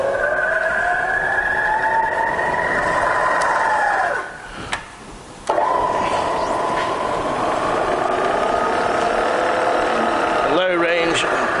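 A Bridgeport milling machine with a Vari-speed head and 42-inch table runs in low range at about 50 RPM, giving a steady humming whine with overtones that drops away briefly midway before resuming.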